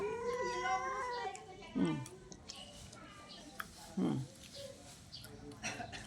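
A small cat meows several times in short separate cries, close by and fairly faint, with a person talking over and between the calls.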